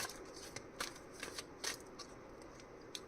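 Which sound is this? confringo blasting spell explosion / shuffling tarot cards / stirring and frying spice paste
shuffling tarot cards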